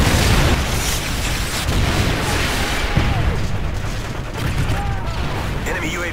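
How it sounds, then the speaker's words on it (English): A Predator missile strike in Call of Duty Modern Warfare 3 multiplayer, heard as a loud, sustained rumbling blast with debris and crackle that continues throughout, while a voice speaks briefly near the end. "Friendly Predator missile inbound."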